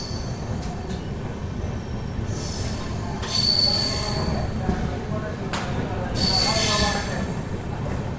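A Karimnagar to Tirupati weekly superfast express on an LHB rake pulls into Kalahasti station, its wheels giving loud, high metallic squeals in two long bursts over a steady rolling rumble, with people talking nearby.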